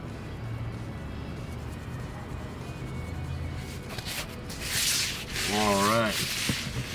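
Pecan rub being rubbed onto a brisket by hand, a soft steady scratchy sanding sound running throughout, close up, with a brighter brushing swell near the end.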